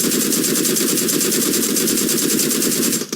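Sustained rapid automatic gunfire from a rifle in the mobile battle royale shooter PUBG Mobile, a dense, loud, unbroken rattle of shots lasting about three seconds before cutting off abruptly.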